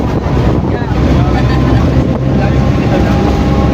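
Strong northeast monsoon wind batters the microphone with a loud, continuous low roar and rumble, steady and close throughout the short stretch.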